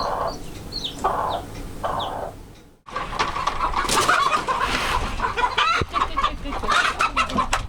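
Estonian native breed hens clucking in repeated short bursts, then a louder, agitated stream of squawking and cackling warning calls nearby, with a few sharp bird chirps mixed in.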